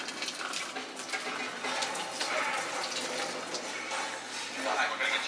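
Water is poured out of an instant noodle container into a sink, giving a steady broadband splashing rush throughout, close and moderately loud, with brief swells near the middle and end.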